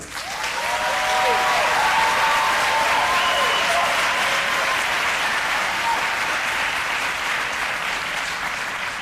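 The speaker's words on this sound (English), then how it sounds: "give yourselves a round of applause" Graduates and audience at a university graduation ceremony applaud steadily, a dense wash of clapping that swells quickly and holds for the whole stretch, with faint voices and tones beneath.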